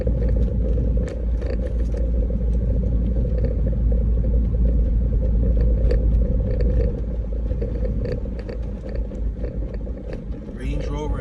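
Car driving up 77th Street through a Scotlandville neighborhood in Baton Rouge, Louisiana, with a steady low engine and road rumble and tire noise throughout, heard from inside the vehicle at a constant level.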